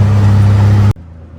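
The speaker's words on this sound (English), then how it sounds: "कहने को तो ये टुक टुक रिक्शा है, लेकिन अंकल जी तो एकदम हवा से बातें कर रहे हैं।" A tuk-tuk rickshaw speeding through Bangkok, its engine droning loud and close with a steady low hum for under a second before the sound cuts off abruptly into near silence.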